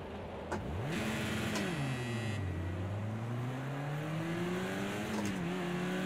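A Caterham 7's engine in Project Cars 2 revs and shifts through gears, pitch rising and falling steadily as it races, loud and close with no talking.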